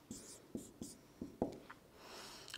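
Marker taps and short squeaky strokes on a board, about six quick separate marks at close range as words are written, with no voices.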